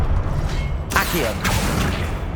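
Accio spell cast in Hogwarts Legacy, a short magical whoosh with a creaking, rising sweep that bursts in at about the one-second mark over continuous game ambience and fades soon after.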